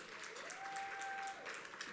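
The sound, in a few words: audience applause at awards event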